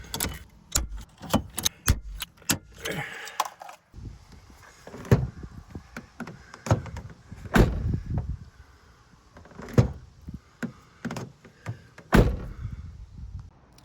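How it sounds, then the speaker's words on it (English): Ford Transit van door being opened and closed repeatedly, with sharp thuds, latch clicks and rattles at irregular intervals, close by and fairly loud, no talk. "it should open and close with the door."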